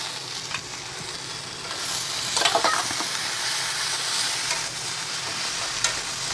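A spatula scrapes and stirs through a shak chorchori, a Bengali leafy-green vegetable dish seasoned with salt, hand-ground turmeric and chilli, frying in a pan. Steady close sizzle runs under a few louder scraping strokes, with no talk.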